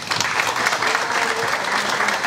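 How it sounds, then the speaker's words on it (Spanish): Audience at a gathering for a gastronomic route in Higüey gives steady, dense applause, a continuous wash of clapping that holds evenly for the whole span with no pauses. "un fuerte aplauso"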